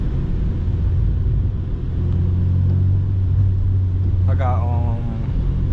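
Eighth-generation Honda Civic Si driving in the rain, its low exhaust drone steady and close throughout, with a brief burst of talk near the end.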